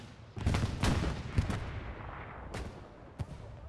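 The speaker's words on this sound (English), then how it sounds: "I hear you popping off M1 Garand shots" M1 Garand rifle fire in a World War II multiplayer shooter match, several sharp distant-sounding shots and booming reports in an uneven burst, followed by a couple of isolated cracks trailing off.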